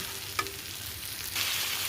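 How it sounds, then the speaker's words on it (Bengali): Spice masala sizzling in oil in a wok before fish is added, a continuous close frying hiss with a brief stirring clink, growing slightly louder toward the end. "মশলা সুন্দর করে কষানো হয়ে গেছে দেখুন মশলা দিয়ে তেল ছেড়ে গেছে"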